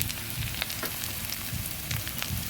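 Onions sizzling in oil in a pan as spices go in, a soft continuous frying hiss with occasional stirring scrapes, fairly quiet and close.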